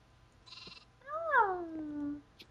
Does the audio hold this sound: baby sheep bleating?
yes